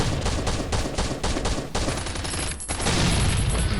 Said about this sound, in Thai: ตอนนี้มีเสียงปืนครับ ไม่รู้ว่าจากไหน